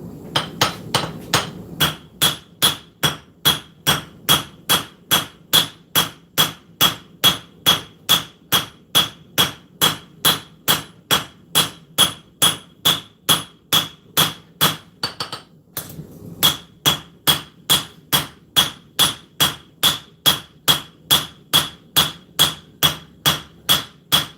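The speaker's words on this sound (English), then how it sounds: "I'm going to use the round side of this hammer." A forging hammer, struck with its round face, beats on hot steel to work in bevels. Steady ringing blows repeat close and loud for the whole stretch, with one short pause partway through.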